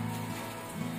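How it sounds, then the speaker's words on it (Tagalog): Steady rain falling at home, a soft continuous patter on surfaces, faint and uniform with no talking. "Umuulan na naman."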